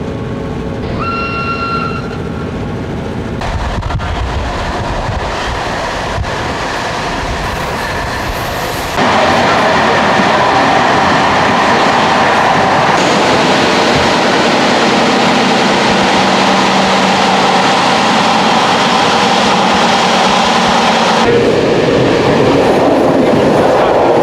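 A veteran diesel train, MY 1126, runs on rails on a windy day in Denmark, with a steady rumble and clatter of wheels that grows louder partway through and holds, while wind noise blends into the mix.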